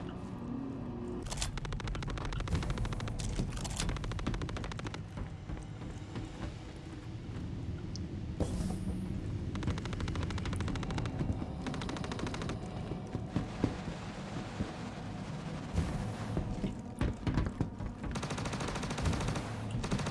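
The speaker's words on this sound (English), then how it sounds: "So I like how different the gunfire sounds now" Two guns fire in the video game Star Citizen, with continuous rapid bursts and sharp cracks layered densely and loudly throughout, with no pause in the shooting.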